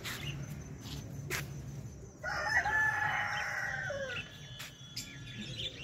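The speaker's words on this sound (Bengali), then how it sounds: "এই মোরগগুলো ডাকছে" A desi rooster kept among birds at a small children's park lets out one clear, drawn-out crow lasting about two seconds at moderate distance, against soft outdoor background noise.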